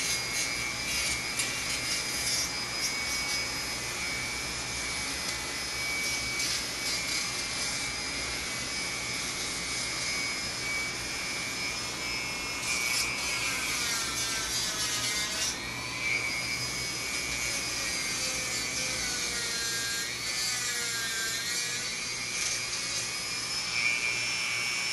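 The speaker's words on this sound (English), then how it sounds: "I find that little Dremel tool to be awful handy" A small Dremel rotary tool deburrs the inside of a turned wooden piece with a sustained high-pitched whine and grinding rasp, close and continuous, its pitch wavering as the tool presses into the wood.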